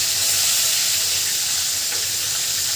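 Fish fries in hot oil in a pan, giving a loud, dense sizzle that runs without pause from start to finish, close and unbroken.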